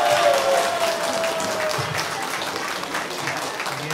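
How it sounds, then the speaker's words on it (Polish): Steady applause from an audience at a folk ensemble festival awards ceremony, an even wash of clapping lasting throughout, moderately loud with no pauses. "Wszystkim wielkie brawa dla nich."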